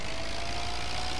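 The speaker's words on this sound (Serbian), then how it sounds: "Sad ću vam pokazati kako zvuče ovaj traktor." An IMT 560 DeLuxe tractor engine in Farming Simulator 2017, a steady low droning idle with a faint rough knock, brief and continuous with no voices.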